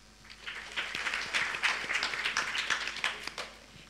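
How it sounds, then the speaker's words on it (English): Conference attendees at an innovation event clap their hands in a show-of-hands poll, a modest, uneven patter of claps that builds briefly and trails off, fairly quiet overall. "clap your hands like this if you have never participated in a"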